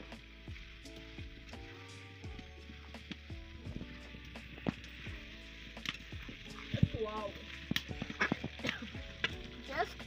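Potatoes frying in a pan for mutton curry, with a soft continuous sizzle and frequent clattering stirring strokes against the pan, and a quiet voice talking now and then.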